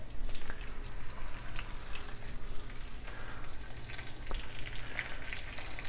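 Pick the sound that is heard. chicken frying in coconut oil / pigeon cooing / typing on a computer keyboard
chicken frying in coconut oil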